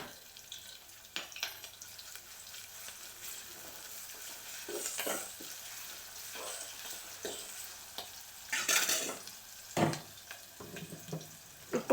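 Ginger paste fries with reddish browned onions in a pan, sizzling steadily while a spoon stirs and scrapes at irregular moments, with a few louder bursts of clatter and hiss close by.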